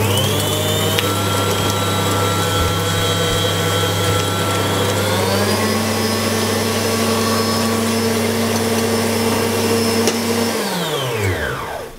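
An electric kitchen mixer beats softened butter with powdered sugar for a Waldviertel poppy-seed bundt cake, a steady loud whirring drone that rises in pitch midway, then winds down and stops near the end.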